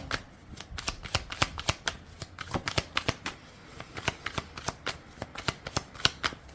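Tarot cards being shuffled by hand, a rapid series of crisp riffling flicks and slaps in uneven bursts, close and fairly quiet, with no talking.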